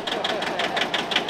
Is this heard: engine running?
yes